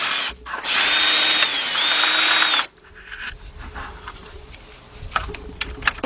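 A power tool whirs loudly for about two seconds while removing bolts from a BMW starter. Quieter clinks and handling noises follow.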